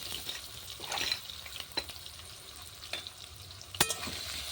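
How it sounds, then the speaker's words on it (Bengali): Soft continuous sizzling of beef and spices frying in oil, with scattered light clicks and scrapes from a utensil, fairly quiet and close. "হালকা করে ভেজে উঠে নেব"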